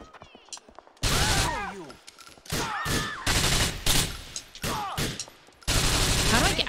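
Bursts of gunfire in GTA IV, several loud heavy volleys separated by brief pauses, with game character voices shouting between the shots.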